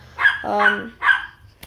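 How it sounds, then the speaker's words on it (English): A dog barks in the background: three short, fairly loud barks in quick succession, the middle one drawn out into a whining yip. "sorry about that in the background. That's my dog."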